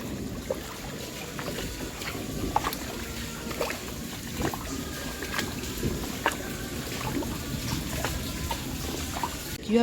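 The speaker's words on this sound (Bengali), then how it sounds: "দেখো রাস্তার জলটা আমাদের বাড়ির মধ্যে ঢুকছে" Rain floodwater pouring off a road and flowing into a house during heavy rain, a steady broadband rush of moving water with scattered splashes and knocks, fairly close, with no talk.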